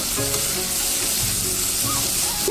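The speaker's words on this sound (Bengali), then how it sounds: "গরম মশলা দিয়ে আবারও ভালো করে নাড়িয়ে চালিয়ে নেব" Chicken with garam masala sizzling in a pan as it is stirred, a steady close frying hiss with soft scraping strokes and no voices.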